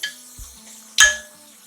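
A lid is set on a cooking pan for Kerala-style beetroot pachadi, a soft clink followed by a sharper metallic clatter about a second later, close and alone.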